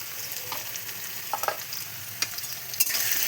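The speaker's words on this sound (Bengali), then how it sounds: "দিয়ে দেব আলু লবণ হলুদ গুঁড়ো" Potatoes frying in a pan with salt and turmeric for ghugni, a steady broad sizzle with scattered scraping stirs from a utensil, close and without talk.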